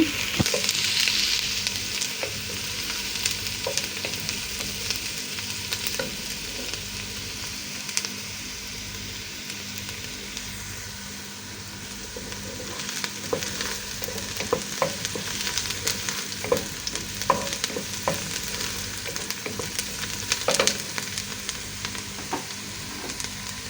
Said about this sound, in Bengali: আমি এখানে ঘি দিয়েছি আর সাথে পেঁয়াজ দিয়েছি